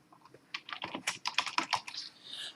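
Fast typing on a computer keyboard, a quick run of crisp key clicks that speeds into a dense burst, heard alone and fairly quiet.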